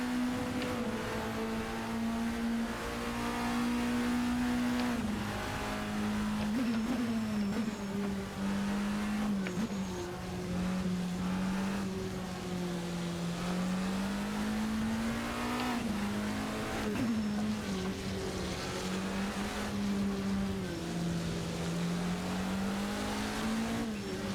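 Race car engines in Project Motor Racing during a GT Legends race near the final corner, a loud continuous engine drone rising and falling through gear changes and revs, with other cars roaring nearby.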